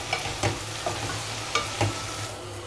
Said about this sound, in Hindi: थोड़ा इसमें भून देंगे तो ये खाने में और टेस्टी आएगा